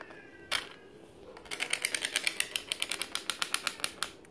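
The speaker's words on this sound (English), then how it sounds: "it would derail and just kind of sit there for a moment, its rear driver spinning, and then it would kind of move" A derailed model train locomotive sits off the track with its rear driver spinning, giving a rapid, even series of sharp clicking ticks after one louder knock, close and fairly loud with no talk.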